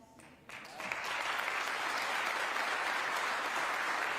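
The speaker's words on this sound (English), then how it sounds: "Lots of clapping." An audience claps after a mayor's speech, the applause swelling in quickly after a brief quiet start and then holding as a dense, even wash of many hands in a large room.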